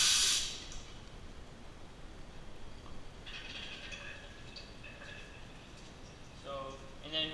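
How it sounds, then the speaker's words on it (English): Shop air blasts through a BG PF5 tool, spraying fluid in a garage. A loud, sharp hiss bursts for about half a second at the start, then it is quiet except for a faint background and a person speaking. "I will come over here and apply the shop air"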